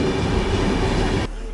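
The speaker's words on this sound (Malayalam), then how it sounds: "നിസാമുദ്ദീനിലേക്കുള്ള രാജധാനി എക്സ്പ്രസ്സാണ് ഈ ഇറങ്ങിപ്പോകുന്നത്" The Nizamuddin Rajdhani Express pulls out of a station platform with a loud, steady rumble and rolling wheel noise that cuts off abruptly near the end.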